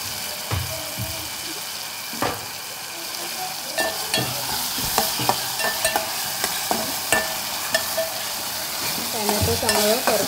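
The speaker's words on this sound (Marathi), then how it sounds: "चांगलं परतून घ्यायचं।" Tomatoes stir-fried in a ground masala paste for a kalvan-style curry give a steady low sizzle, broken by frequent spatula scrapes and clinks against the pan throughout.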